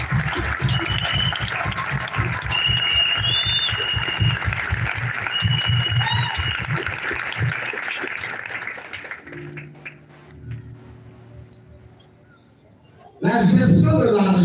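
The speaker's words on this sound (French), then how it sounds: "Acclamez, acclamez." A congregation applauds at a Christian revival meeting, a dense, sustained wash of clapping over a rhythmic low pulse and voices that thins out after about nine seconds, then surges back loudly near the end.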